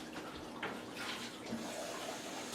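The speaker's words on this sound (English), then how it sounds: "I will pour water in here first" Water pours steadily into a hanging sweet potato planter, a soft continuous splashing trickle heard close up and alone, with no talking over it.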